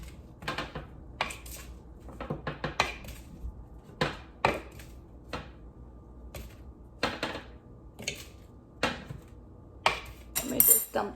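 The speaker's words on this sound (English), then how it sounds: "We're gonna go ahead and get these off and throw them right into the bowl." Metal fork scraping roasted pesto potatoes off a baking pan and dropping them into a bowl, a steady series of sharp clinks and scrapes, close and fairly loud, continuing through the whole stretch.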